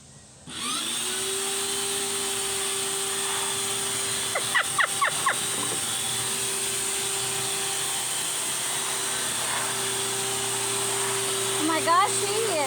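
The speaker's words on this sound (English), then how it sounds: "she is spray painting with the vacuum cleaner." A vacuum cleaner motor hums steadily throughout, with a few short sputtering bursts in the middle and near the end, as the vacuum is used as a paint sprayer.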